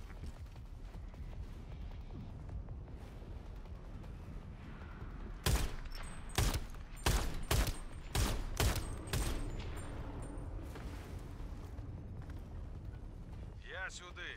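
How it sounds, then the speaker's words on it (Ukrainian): Rapid turret fire in the shooter Shatterline during a PvE match: a string of about eight sharp, loud shots in quick succession midway through, set against quieter game ambience with a voice talking. "Це буде турель."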